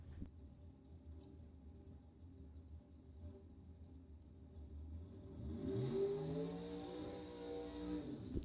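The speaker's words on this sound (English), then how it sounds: "Super Pro Final coming into the burnout box right now." A drag racing car rolls into the burnout box at a bracket drag race, its engine idling steadily at a distance before revving up loudly into a sustained, rising roar for the last few seconds.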